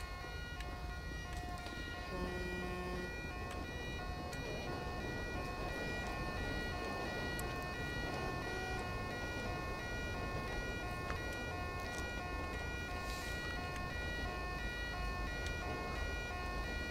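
Ambulance siren in the video game GTA 5, a steady wailing tone running the whole time beneath constant traffic and engine noise, with faint talk in the background.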